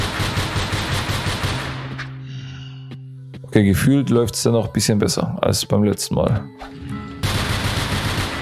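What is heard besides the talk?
gunfire in video game NONGUNZ: Doppelgänger Edition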